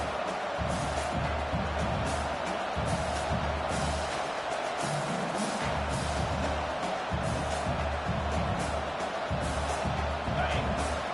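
Football stadium crowd roaring steadily in support of the defense, a dense, continuous wall of cheering that rises and swells throughout with no break.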